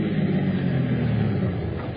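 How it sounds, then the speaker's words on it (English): Car engine rumbling steadily as it draws near in an old-time radio crime drama, a continuous low motor drone with no talk over it. "here comes the car."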